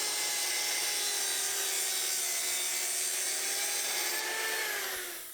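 A power saw cuts steadily along a scribed line on a cabinet valance, working the ceiling side. The loud, continuous whine holds for about five seconds and then tapers off, with no one talking.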